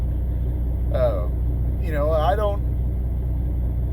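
Steady low engine rumble of a truck heard from inside the cab, constant and even, with someone speaking briefly over it.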